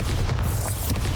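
A Bombarda spell explosion in Hogwarts Legacy, a single short, deep boom with a bright crackling burst, loud and close, lasting about a second.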